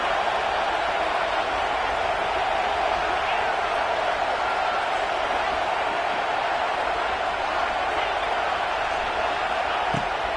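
A stadium crowd at a UCLA versus Penn State college football game produces a steady, dense roar that stays at a constant level throughout, broad and distant-sounding without distinct peaks.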